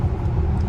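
A 2018 Tesla Model X 75D electric SUV cruising on a highway, heard as a steady low road and tire rumble from inside the cabin, briefly and without an engine note.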